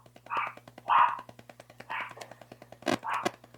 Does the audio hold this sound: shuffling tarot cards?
no